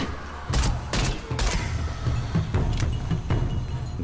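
Gunfire from the video game Shadow of the Tomb Raider, several sharp loud shots spaced unevenly over a continuous low rumble, close and dominant, with no talk.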